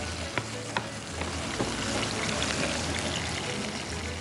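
Pomfret fish sizzles steadily in hot oil in a pan, a dense close crackle with a few sharp pops near the start, continuous and fairly loud with no talking.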